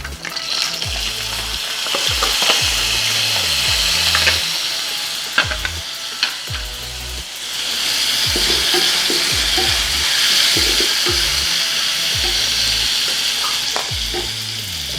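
Mustard seeds, cumin, chana dal and onion sizzle and crackle loudly in hot oil for beetroot sambal, with steady frying hiss and repeated stirring scrapes throughout.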